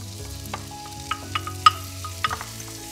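Shallots sizzling in butter in a frying pan, a soft steady fry under occasional stirring clicks and scrapes from a utensil, close and moderately quiet with no talk.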